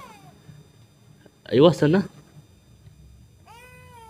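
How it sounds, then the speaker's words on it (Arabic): A cat meows in the horror video game The Baby in Yellow, with one brief meow at the start and a longer one at the end. Someone speaks briefly between them. "القطة جوه."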